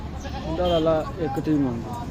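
Goats bleat at a livestock market in Lahore, giving several close, wavering cries in quick succession over background crowd noise.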